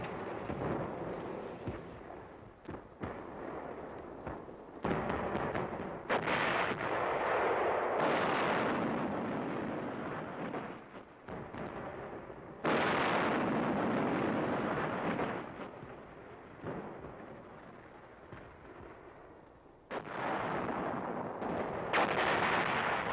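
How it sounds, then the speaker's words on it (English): A Korean War artillery barrage thunders with continuous heavy booms and rumbling blasts layered over one another, loud and sustained, with no speech. "move in and lay down a barrage. The attack begins."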